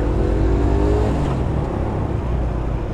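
A SYM Symba small motorcycle engine on New York city streets drones loudly and steadily close by, its pitch dropping as the rider shifts down to second gear, with a brief rise in tone partway through.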